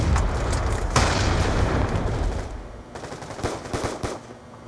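Rapid gunfire bursts from a military shooter video game, loud and dense at first, then easing into scattered shots and short volleys toward the end, with no talking over it.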